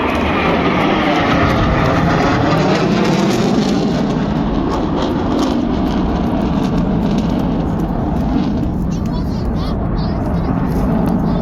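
At the Thunder Over Louisville air show, aircraft make a farewell pass with a loud, steady, broadband jet roar that fills the whole stretch without letting up.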